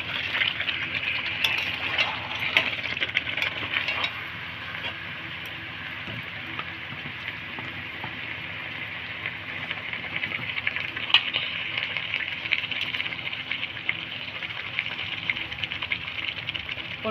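Bombay duck fish hits a frying paste of ginger, chilli, tomato, turmeric, onion and garlic, setting off a steady, rain-like sizzle that swells and settles across the stretch, close and continuous.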